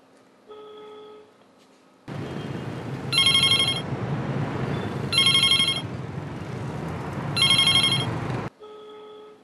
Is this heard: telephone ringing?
yes